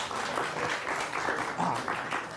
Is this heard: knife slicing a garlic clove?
no